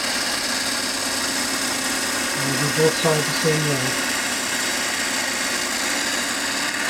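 A sander runs on a wooden drum stave, a constant broadband hiss and motor drone underneath someone speaking briefly midway.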